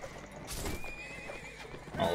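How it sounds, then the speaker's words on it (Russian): A horse neighs in the middle of Mount & Blade: Warband combat, its whinny riding over clattering hooves and battle noise for about two seconds. "О, лошадку убил."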